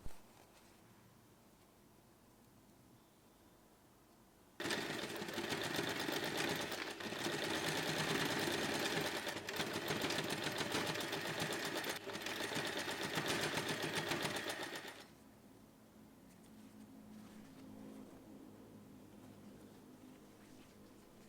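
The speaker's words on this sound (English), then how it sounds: "Sew directly on this line. You'll have 4 corners to sew in total." A sewing machine runs steadily for about ten seconds, stitching straight across the boxed corners of a fabric snap wallet pouch, loud and close, with quiet gaps before and after.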